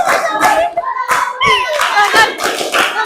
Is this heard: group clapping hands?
yes